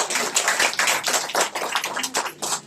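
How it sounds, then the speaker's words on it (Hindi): A group of people in a spiritual class hall claps for a woman, a dense patter of hand claps that rises and falls in bursts, fairly loud and close. "ताली बजा दीजिए बहन जी।"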